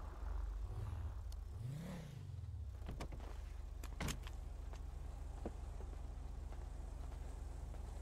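Car engine idling in a GTA roleplay game, a low steady drone throughout with a rising and falling rev early on and scattered clicks and knocks over the hum.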